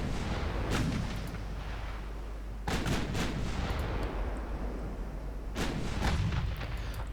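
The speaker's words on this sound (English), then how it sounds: "Let's bring that A turret into the fight." Warship main turret guns fire in the naval combat game Ultimate Admiral Dreadnoughts, set in Italy in 1917. Three heavy booming salvos ring out at regular intervals over a continuous low rumble, with no talk.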